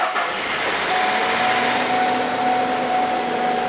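A Mazda B2300 pickup, unstarted for 15 years, starts up and settles into a steady, moderately loud idle hum with a faint whine.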